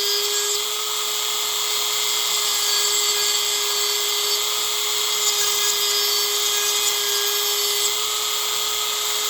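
A loud, unbroken high whine comes from a Dremel rotary tool grinding the cutters of a chainsaw chain, steady and close throughout.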